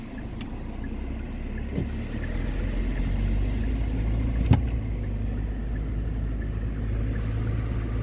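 A car drives along a waterfront road in San Fernando, giving a steady low road and engine rumble with faint wind noise and a brief knock midway.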